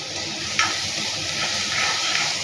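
Food sizzles and crackles steadily in a hot pan with turmeric powder being added, with a few brief stirring scrapes over the continuous frying hiss.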